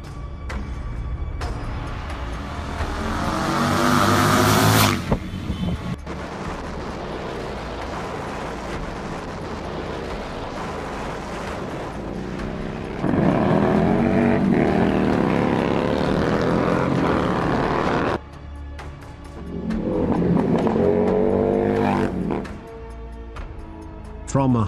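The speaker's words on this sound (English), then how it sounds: "a proper performance exhaust with the sound that we want to hear" A Harley-Davidson Street 750 cafe racer with a performance exhaust revs loudly in several rising and falling bursts, close and throaty, with a voice speaking at times.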